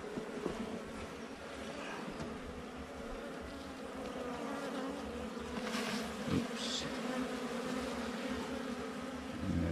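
Honeybees buzz around a hive after a swarm trap is moved over, a dense, continuous drone at moderate level with a few louder passes. One person makes a brief remark.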